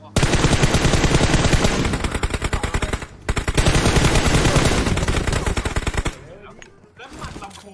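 Rapid automatic gunfire in the PUBG Mobile video game, loud, dense bursts of shots that rattle almost continuously for about six seconds, pause briefly, then resume with a few scattered rounds.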